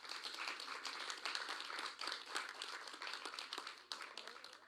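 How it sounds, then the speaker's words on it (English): Sustained applause at a national tourism debate finals, many hands clapping in a dense, continuous patter from a roomful of people, with no voices standing out. "I invite you to give them all a round of applause"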